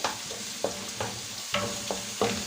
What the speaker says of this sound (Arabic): افضل بقى اقلب فيها شويه كده حلوين لحد ما نلاقي لون البصله دي بدات كده تلون